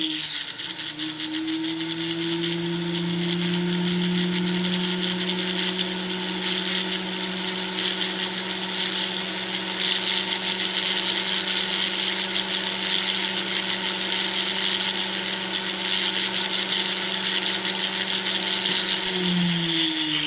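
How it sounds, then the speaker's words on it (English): A power tool files down a bracelet, a steady high-pitched whine with a constant motor tone running close and loud throughout, alone with no talk. "we're just filing it down, trying to make it look"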